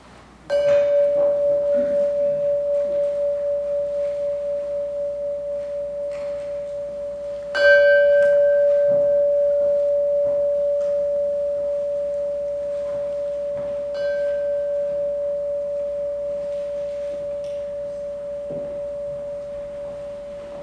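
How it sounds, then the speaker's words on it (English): A single struck bell rung to open a worship service rings out with a clear sustained tone, then is struck again twice more, each ring decaying slowly over many seconds in a quiet room. "let me ring the bell, which always signals we're about to start"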